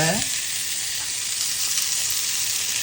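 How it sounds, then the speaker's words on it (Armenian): Sweet red pepper fries in oil with a loud, even sizzle that holds steady throughout, close by and without talking. "թողնում եմ մի քիչ տապակվի"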